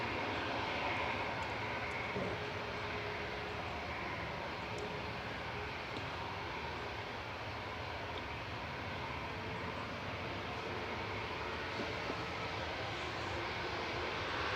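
A Ryanair airliner departing Manchester Airport for Malaga, its engines producing a steady, broad, loud roar that holds evenly for the whole stretch with no talk over it.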